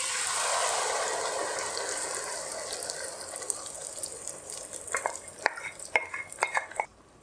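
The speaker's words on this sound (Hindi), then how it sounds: "इसे हल्का सा फ्राई करेंगे और उसमें हम टमाटर पेस्ट डाल देंगे जो हमने तैयार किया था।" Green chillies and tomato paste hit a hot pan for butter chicken gravy: a loud, hissing sizzle that gradually fades, followed by a series of sharp clinks and scrapes of a spoon stirring.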